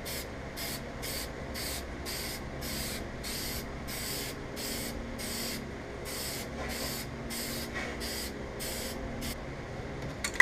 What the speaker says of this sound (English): I'm going to spray paint it flat black